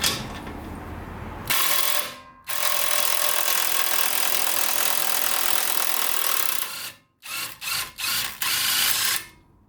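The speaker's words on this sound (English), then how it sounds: "we're gonna want to support the control arm with this jack so that when we do remove that bolt, the spring doesn't just make it shoot down" A power tool runs loudly in long, steady bursts while a suspension control arm bolt is removed during a coilover installation, then stops and restarts in several short pulses near the end.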